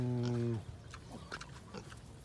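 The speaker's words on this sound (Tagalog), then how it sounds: "At humalo po yung mga biik ni Puti." Pigs grunt and oink in a farm pen, a sow among her piglets, with a loud low steady hum in the first half second, then soft scattered snorts and squeals at close range.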